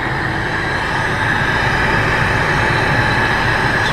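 Ford F150 4x4 engine fitted with a K&N high-flow intake idles steadily, a continuous broadband rush of air and mechanical drone at constant loudness throughout, with no talking.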